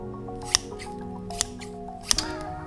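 A few sharp, crisp snips of scissors, spaced irregularly with one quick double snip, over a quiet humming background, in a sneaker-making workshop.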